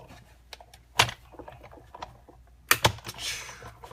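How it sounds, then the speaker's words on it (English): Scissors cut out a paper card panel for a Halloween card, giving a few sharp, close snips with soft paper rustling between them and no talk. "And then I'm going to just cut that out."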